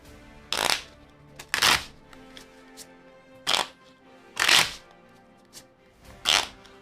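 Five bursts of playing cards being riffle-shuffled, each a quick crisp flutter, separated by short pauses, close and clear with no talking.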